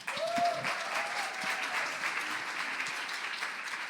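An audience at a women's panel discussion gives steady applause, a moderately distant wash of clapping that stays even throughout, with a faint voice at the start.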